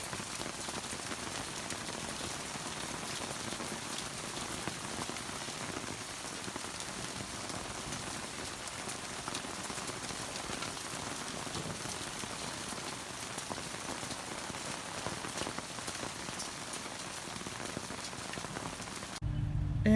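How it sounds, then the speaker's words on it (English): Hail pelting down during a storm over a garden with lettuce and kale, a steady dense hiss of rattling impacts lasting the whole stretch, fairly loud and close, with no voices before a brief louder burst at the very end. "yesterday we had a crazy hailstorm, and here's some footage of it."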